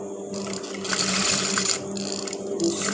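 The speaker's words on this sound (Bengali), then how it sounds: "এবার এটা আমি চাপ সেলাই দিয়ে নেব, তাহলে ফিনিশিংটা সুন্দর আসবে।" A sewing machine stitches along a garment neckline, a steady close whirring hum with brief changes in pace as the fabric is turned.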